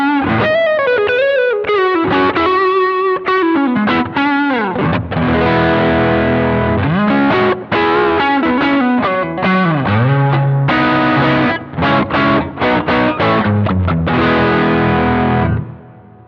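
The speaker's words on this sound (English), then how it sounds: "moving on to the second patch, which is a medium overdrive" A heavily overdriven electric guitar through a BOSS GT-1000 Core medium overdrive patch plays a continuous riff of chords and single notes, loud and crunchy, with no voices.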